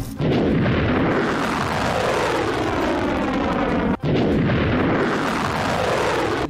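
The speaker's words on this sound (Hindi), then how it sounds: "मिसाइल को हवा में ही मार गिराने के बाद सायरन और धमाके की आवाज सुनी गई।" A loud, sustained roaring rumble from a Houthi ballistic missile interception over Tel Aviv fills the air, cut by one sharp crack partway through before the roar resumes, heavy and close.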